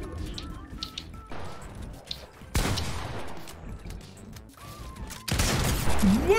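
Gunfire in a Fortnite match: scattered sharp shots across the scene, with several louder bursts of firing cutting in abruptly between quieter stretches of game ambience.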